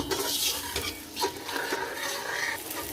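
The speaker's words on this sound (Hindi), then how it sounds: "और इसको हम इतना भूनेंगे कि लहसुन अदरक का जो पेस्ट हमने इसमें ऐड किया है उसकी सारी स्मेल ख़त्म हो जाए" Chicken legs fry in a pan with ginger-garlic paste for pulao, a continuous close sizzle and crackle broken by occasional stirring scrapes.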